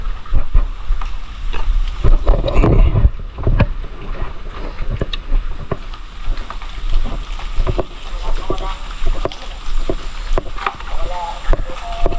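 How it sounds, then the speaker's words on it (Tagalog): Motorboat engine running loudly on the water, a steady droning roar with wind noise buffeting the microphone and occasional people talking over it. "Masyado pa nilang pinapaingay yung motor."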